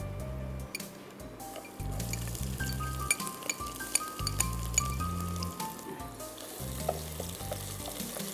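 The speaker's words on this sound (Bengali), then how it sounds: "পেঁয়াজটা একটু ভাজতে হবে।" Onions frying in a pan with bay leaves, garam masala and cardamom for chicken, a steady close sizzle with scraping spoon stirs and light clinks, no talking.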